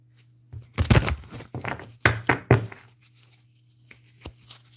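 Tarot cards are shuffled close by in a few quick bursts of riffling and slapping, separated by short pauses, over a low steady hum.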